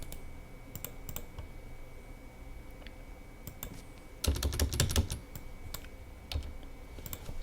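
Typing of a SQL update query on a computer keyboard, a steady run of soft key clicks with a denser, louder burst of keystrokes midway through.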